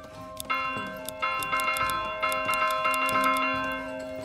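Church bell ringing in the medieval city-building game Manor Lords, a steady series of bright metallic strikes about every quarter second with long overlapping resonant tones, loud and alone.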